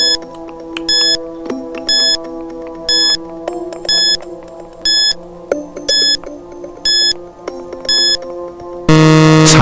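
A quiz countdown timer ticks along beneath soft background music, with evenly spaced bright beeps about once a second, ending in a loud sustained buzzer.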